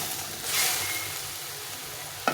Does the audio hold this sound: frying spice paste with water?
yes